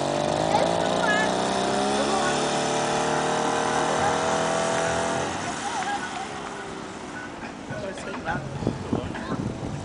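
Drift kart engine accelerating, a buzzing small motor rising in pitch then dropping off midway, close and moderately loud with some voices alongside.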